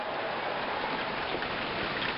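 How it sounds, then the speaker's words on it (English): Rain falling on a ballpark in Atlanta in the APBA Baseball for Windows game, during a 1992 Pirates at Braves exhibition: a steady, even hiss of downpour with no other sounds. "Here comes the rain."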